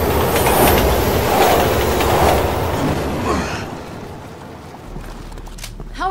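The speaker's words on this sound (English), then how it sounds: "Train's coming!" A train rumbles past in Resident Evil 6 with clattering wheels and a whooshing roar that gradually fades, followed by faint squealing near the end.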